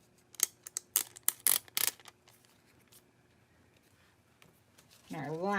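Foil sheets being peeled off a toner sheet in a crafting session, several sharp crinkly tearing bursts close up, then quiet before a voice begins speaking.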